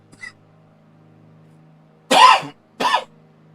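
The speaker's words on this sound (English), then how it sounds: "Excuse me, I have to cough." Two loud, harsh coughs close to the microphone after a quieter throat sound, with a brief pause between them.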